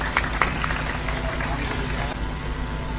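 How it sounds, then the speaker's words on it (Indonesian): A crowd at an Indonesian religious lecture applauds a guest being introduced, a thick, continuous wash of clapping from many hands that stays fairly even, with some stray sharper claps near the start. "Tepuk tangan untuk Gus Ipang Wahid."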